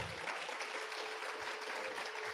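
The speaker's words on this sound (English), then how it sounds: "can we get a round of applause for Ark being here with us tonight?" An audience gives a round of applause for a guest at an evening talk event: a dense, steady wash of many hands clapping at once, even in loudness throughout and with no voices on top.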